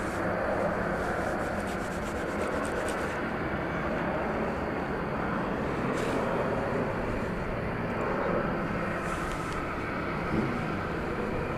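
An airliner at DFW Airport on a runway: steady, broad engine roar that stays loud and constant throughout, without breaks.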